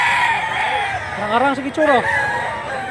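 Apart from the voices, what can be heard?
rooster crowing at a cockfighting rooster sale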